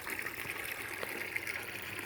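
Water draining through the center pipe of an aquaponic radial flow filter built from a flower pot, a quiet continuous trickle and gurgle close by with small splashy accents.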